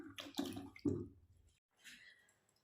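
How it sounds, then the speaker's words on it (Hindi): Air potato (gethi) tubers are rubbed and scrubbed together in water, giving short wet sloshing bursts and a lighter splash after a brief pause, close and fairly quiet. "रगड़ रगड़ के ऐसे धुलिएगा आप, ऐसे ऐसे करके, तो अच्छे से ये धुल जाती हैं।"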